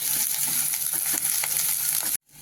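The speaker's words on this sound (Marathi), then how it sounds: "छान परतून घ्यायचं मऊ होईपर्यंत" Capsicum sautéing in oil in a pan, a loud, close, hissing sizzle with light stirring scrapes, steady for about two seconds before stopping abruptly, no speech.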